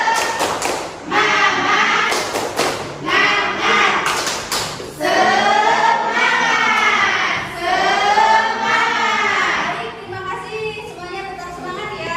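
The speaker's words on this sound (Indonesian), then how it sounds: "sebelum ke materi kita tepuk semangat dulu" A classroom of students performs a rhythmic clapping chant, bursts of sharp claps in set patterns alternating with loud group shouting, close and energetic with voices throughout.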